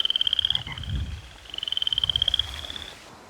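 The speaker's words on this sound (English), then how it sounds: "You are listening to the frogs and the toads in the stream." Frogs and toads in a stream croak in fast pulsing trains, two rhythmic bursts separated by a brief pause, over a thin, steady high-pitched whine.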